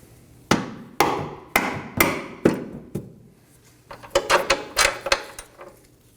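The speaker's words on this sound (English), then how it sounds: "Now I'm going to remove our bolt using a rubber mallet." A rubber mallet knocks out a rear lower forward control arm bolt on a 2018-2024 Chevrolet Equinox. Five evenly spaced, ringing strikes are followed by a quicker burst of lighter taps, all close by and with no talking.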